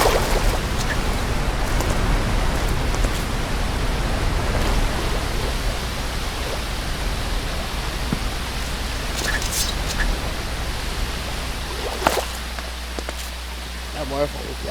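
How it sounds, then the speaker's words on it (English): Roaring waterfall in a tornado survival video game, a loud steady broadband rush filling the whole stretch, with a few faint clicks near the end. "That waterfall was loud."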